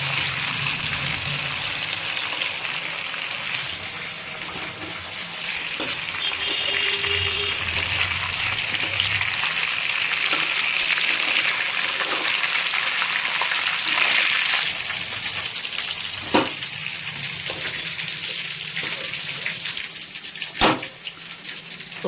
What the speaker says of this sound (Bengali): এবারে এই তেলে আমরা বাকি কপিটাও ভেজে নেবো